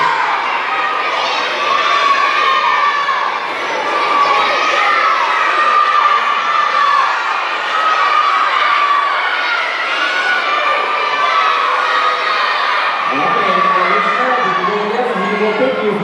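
A crowd of children in an audience at a Lumbee Tribe cultural presentation shout and cheer continuously, loud and close, with a deeper murmur of voices rising near the end.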